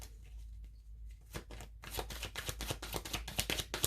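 A deck of tarot cards is shuffled close by, starting quiet and sparse, then breaking into a rapid run of crisp riffling flutters.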